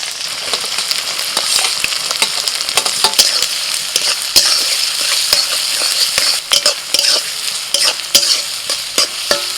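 Chopped onions hit hot oil already fragrant with cardamom, star anise, cinnamon and cloves, setting off a loud, continuous sizzle with frequent sharp scrapes and knocks of a stirring spoon against the pan.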